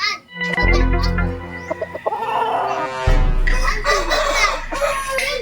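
A rooster crowing and clucking loudly up close, with a couple of crows and scattered clucks over a noisy rural background.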